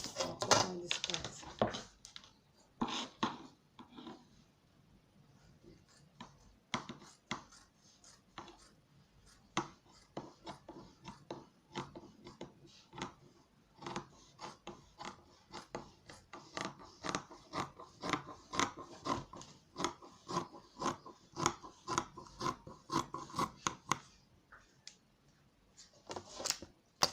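Scissors snip through fabric while pieces are cut out for an eight-piece padded top. Quick, crisp cuts repeat in uneven runs at close range, with a voice speaking now and then between them.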